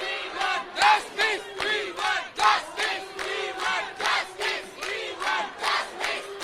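A large protest march crowd chants slogans in rhythmic unison on a street in Gariahat, Kolkata, many voices rising and falling in repeated shouted phrases, loud and close.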